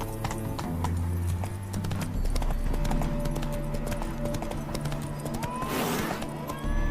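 Horse hooves clip-clop rapidly in a galloping rhythm within The Witcher 3 video game, steady and close, with a brief snort or whoosh near the end and faint game ambience beneath.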